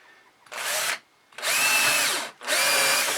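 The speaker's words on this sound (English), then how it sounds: "So we're going to drill the first hole about 50" A power drill whirs in three bursts while drilling a hole into scrap timber on a workbench, the first short and the next two longer, each starting and stopping abruptly, loud and close.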